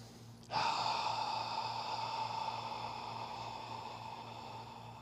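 A single long breath, drawn in sharply and then released as a steady airy exhale that slowly fades, close and alone over a faint background hum, taken during a psoas release exercise.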